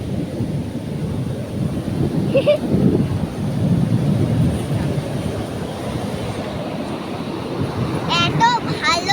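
Ocean waves break on a shore in a steady, loud roar with wind buffeting the microphone throughout, and a voice is heard briefly near the end.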